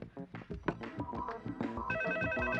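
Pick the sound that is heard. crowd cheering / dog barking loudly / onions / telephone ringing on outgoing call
telephone ringing on outgoing call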